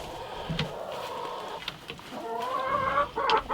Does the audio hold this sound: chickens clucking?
yes